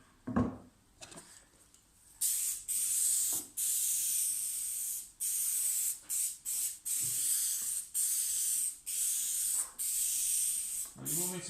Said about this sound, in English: I'll spray the worktop now.